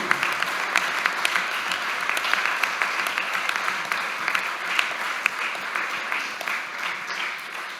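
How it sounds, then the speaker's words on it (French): An audience at a citizens' assembly presentation claps together, a sustained, fairly loud ripple of many hands that runs evenly for about eight seconds with a few sharper claps standing out and no talking. "Je pense qu'on peut à nouveau vous applaudir, c'est vraiment mérité."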